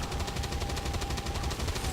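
Rapid automatic gunfire in the video game XCOM 2, a fast continuous rattle of shots at an even rhythm, loud and sustained without talk.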